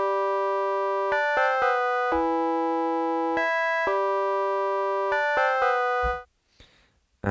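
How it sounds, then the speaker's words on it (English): Default tone of a freshly initialized synthesizer patch, made while designing a deep house bass: plain sustained harmonic notes in a short melodic run with crisp starts, alone and clear, ending abruptly into near-silence. "So first of all we click new here to initialize the patch, and then that should just sound like this."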